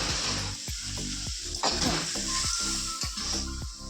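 An egg curry of boiled, peeled eggs cooks in a pan on the stove with a bright, steady sizzle, broken by a regular rhythm of spatula scrapes and taps as it is stirred.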